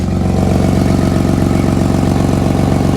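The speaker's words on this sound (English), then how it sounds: "All the noise is coming from the bloody exhaust leak." An RB25DET car engine with an exhaust leak idles close by with a steady, rapid low puttering pulse and a raspy, ticking exhaust note, loud and unchanging.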